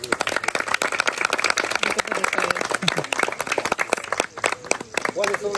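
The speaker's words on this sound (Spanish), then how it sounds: "A ustedes mismos un fuerte aplauso." Crowd clapping in a lively gathering, sharp close hand claps in a fast, dense patter throughout, with voices and chatter mixed in underneath and a speaker talking toward the end.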